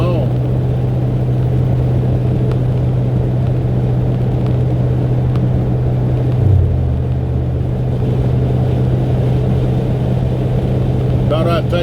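A 1985 Ford F350 truck rolls along with a continuous low engine rumble and steady hum, loud and close throughout, with a brief dip in pitch midway.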